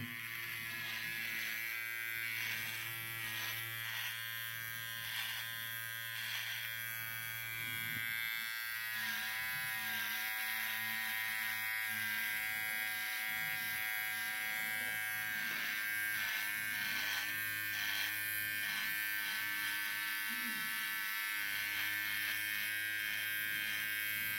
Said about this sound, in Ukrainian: Нажимаю кнопку ще раз, друга швидкість, яка збільшує оберти.